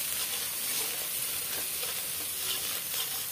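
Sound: stirring spices frying in a pan

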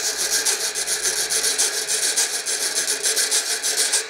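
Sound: reco-reco scraper of drain pipe and bed spring played

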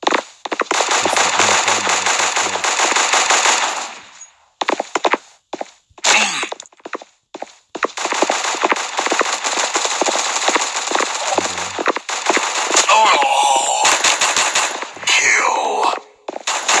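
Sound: gunfire from a stolen gun in Guns of Boom video game

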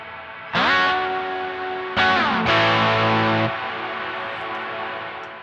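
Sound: guitar amp with full canyon reverb

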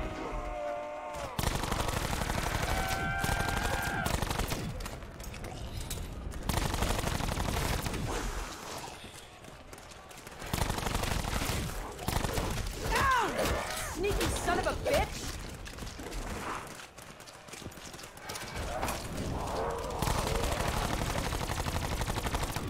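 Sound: Wraith Fire gun shooting, Black Ops 4 Zombies video game

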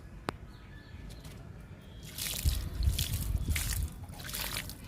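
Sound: liquid fertilizer poured onto chrysanthemum plants

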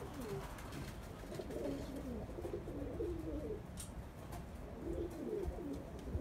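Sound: pigeons cooing in a loft

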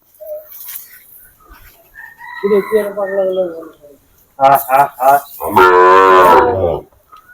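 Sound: cattle mooing at a livestock market

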